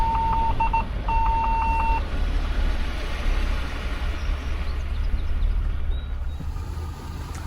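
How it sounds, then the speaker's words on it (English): Rapid electronic beeps from a car's bumper parking sensors repeat in quick pulses, then fall silent, over a loud steady rumble of a vehicle and road noise. "The beeping are the sensors built in my bumper to tell you that you're close to something"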